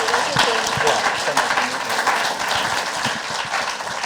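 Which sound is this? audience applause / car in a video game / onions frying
audience applause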